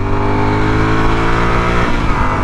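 A Yamaha Super Tenere motorcycle with an upgraded aftermarket exhaust pulls hard in third gear, a loud, steady, rich engine roar that rises slightly in pitch, heard close and continuous.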